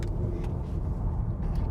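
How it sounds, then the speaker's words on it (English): A Tesla Model Y electric car driven on a ride and handling track, a steady low rumble of tyre and road noise inside the cabin, continuous and moderately loud with no speech. "Let's go for a drive, or a faster drive around our ride and handling track."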